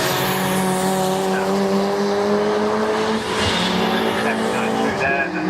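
A Ford Fiesta race car passes on the Oulton Park circuit during a sports and saloon championship race, its engine note a loud, sustained whine with a gradual pitch shift, with a faint tyre scrub as it goes by.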